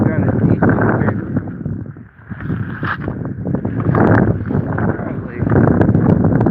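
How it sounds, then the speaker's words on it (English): Wind gusting into the microphone while riding a rescue bike in winter, a loud rumbling buffet that dips briefly and then surges back, with some speech underneath. "we've got a decent wind"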